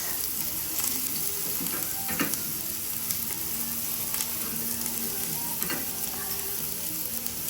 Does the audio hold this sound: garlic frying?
yes